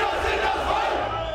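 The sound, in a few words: anti-Pegida counter-protesters booing the march in Dresden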